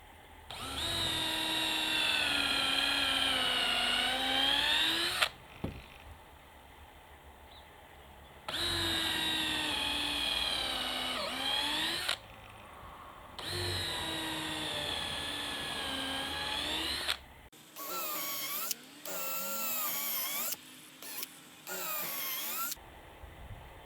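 A Makita 12-volt cordless drill whirs in several loud, close bursts with rising and falling pitch, separated by short pauses, ending in a string of brief choppy spurts.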